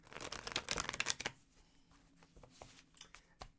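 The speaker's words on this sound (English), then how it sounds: "One more shuffle." Rapid riffling of tarot cards being shuffled in a quick burst, crisp and close, followed by quieter handling and a few soft taps.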